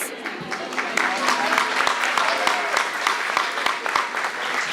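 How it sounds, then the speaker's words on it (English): Sustained audience applause at a community awards banquet, a dense steady clapping from a crowd that continues throughout without a break. "We'd like to do a second round of applause for Eola Hills."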